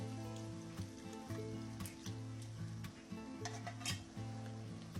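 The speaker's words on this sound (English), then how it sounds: "sauteing these till these onions become translucent" Onions sauté in a pan for catfish sauce piquante, a soft continuous sizzle with occasional stirring clinks of utensil on cookware, steady and close with a low hum underneath.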